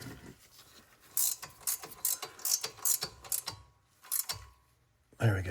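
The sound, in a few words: tightening Porsche caliper brake line bracket studs with a ratchet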